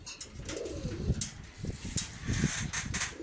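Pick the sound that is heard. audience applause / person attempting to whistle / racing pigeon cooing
racing pigeon cooing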